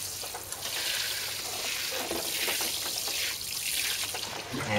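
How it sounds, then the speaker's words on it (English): Water drains and trickles through a seed tray of sweetcorn seedlings on an allotment, a close, continuous hissy splashing flow with small drips and no speech. "the water will sit on it for a while, and then it will start to drain through"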